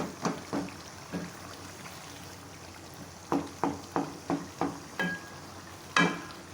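Irregular scraping and stirring strokes as minced mutton is fried in a pan over a faint sizzle, with short bursts of activity and a few pauses between them; no talking.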